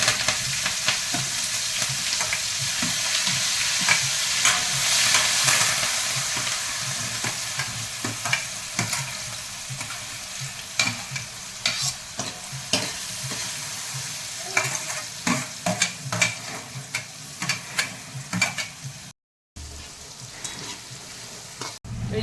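Boiled potato mash being tempered and stirred in a pan for aloo paratha filling, with tomatoes and spices sticking to the bottom; steady sizzling and frying under repeated scraping and stirring strokes, close and continuous, with no talk.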